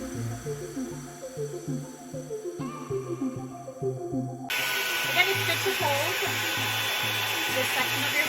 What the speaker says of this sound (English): what you're doing is gliding the blow dryer over and over